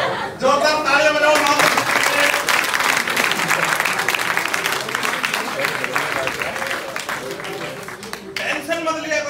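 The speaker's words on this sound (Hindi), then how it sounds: "जोरदार तालियां बजाओ।" Strong audience applause at a talk, with loud, dense clapping from a crowd sustained for several seconds and voices rising over it at the start and end.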